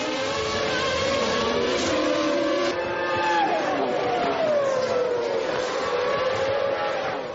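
Formula 1 cars at the 1996 Japanese Grand Prix scream past in a high-pitched whine that rises and falls as they race, with a French commentator speaking over the engine noise.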